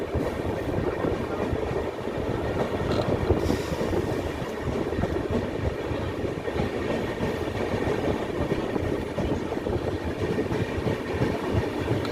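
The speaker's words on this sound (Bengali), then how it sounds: "ট্রেন চলে আসছে" The Howrah–Katihar weekly express passes Nabadwip Dham station on the Katwa–Bandel line. A loud, continuous rumble of wheels on rails carries a steady clickety-clack rhythm.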